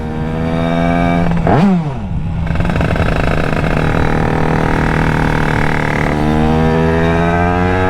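A loud, raspy tuned 100cc Derbi moped engine idles, gives a sharp rev that spikes and falls away, then settles into a buzzing idle before climbing again, close by.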